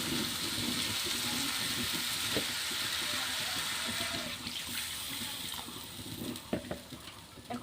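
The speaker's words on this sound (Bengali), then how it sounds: "এখন আমি অল্প জল দেব।" A little water poured into a pan of simmering Bengali village-style fish curry sets off a steady, close sizzling and bubbling hiss that softens and turns more uneven toward the end.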